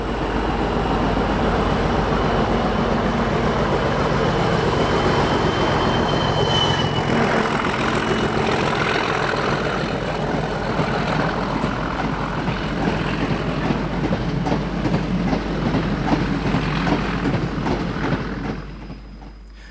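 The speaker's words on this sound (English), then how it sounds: "The smaller Class 37s were adopted as BR standard mid-powered diesels and may be seen at York on freight such as this engineer's train." A Class 37 diesel locomotive hauls an engineer's freight train through York. Its engine drones steadily while wagons clatter past for most of the stretch, and the noise fades near the end.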